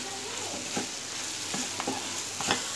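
Mutton for bhuna gosht fries and sizzles in a pan under a continuous hiss, with several short scraping strokes of stirring cutting through near the end.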